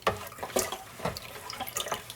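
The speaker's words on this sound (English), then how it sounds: "I just take my tablespoon and mix it together" A tablespoon stirs Novosan into 30 ounces of water in a bucket, giving close, irregular sloshing and splashing strokes with brief watery clinks, moderately loud and steady throughout.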